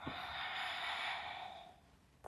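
A long, steady breath out during a guided exercise routine, airy and close, swelling then fading over about two seconds, ending with a short sharp intake.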